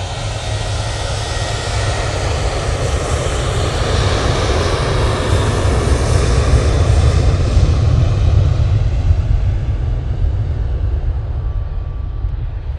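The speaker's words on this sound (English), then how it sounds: "Beautiful landing, load of smoke coming off from that" A Qatar Airways airliner landing at Manchester Airport, a loud sustained engine roar with deep rumble that swells and then slowly fades as it passes.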